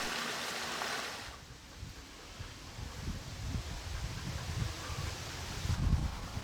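The Cascade des Tufs waterfall on the Cuisance river in the Jura, a limestone tufa cascade, gives a steady broad rush of falling water with a gentle, continuous wash that swells slightly at times, and no voices.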